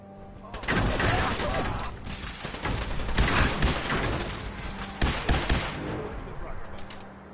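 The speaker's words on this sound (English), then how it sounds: "Keep shooting like that." Sustained bursts of gunfire from Fallout 4 combat, loud and dense with several heavier shots standing out, beginning after a brief quiet moment and running throughout while someone talks.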